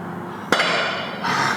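A single sharp metallic hammer blow strikes the damaged body panel of a totaled Jeep during bodywork repair, followed by a lingering ring and a steadier scraping or pulling noise toward the end.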